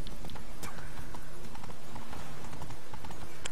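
Horse hooves clip-clopping in a steady rhythmic gait while riding in The Witcher 3 video game, close and loud over a background game soundscape.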